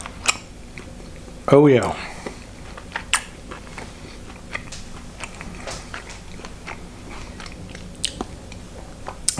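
Someone bites and chews a slice of cheddar and chorizo quesadilla, with close, crisp crunching bursts and a short spoken exclamation partway through.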